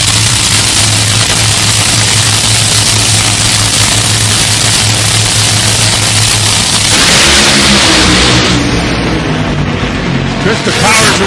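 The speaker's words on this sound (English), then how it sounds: "Krista powers away into smoke at 376 for Torrence." Top Fuel dragster launching down a drag strip in qualifying, a loud sustained engine roar that swells and shifts as the car pulls away near the end, with a commentator talking over it.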